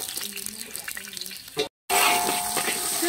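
Minced ginger and garlic hitting hot oil in a wok, a steady bright sizzle that starts abruptly after a brief gap and holds loud and close, with faint voice earlier.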